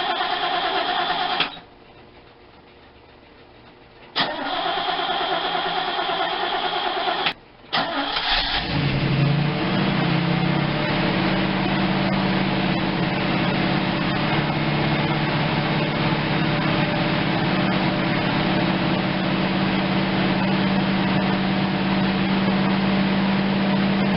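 A 1976 Pontiac Ventura with a budget exhaust system: a few seconds of starter cranking broken by short pauses, then the engine catches and settles into a steady, moderately loud idle rumble.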